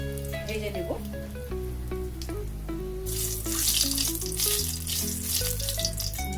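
Asafoetida, bay leaf and dried red chilli fry in hot oil, a steady sizzle that swells louder partway through, heard close with background music and no talking.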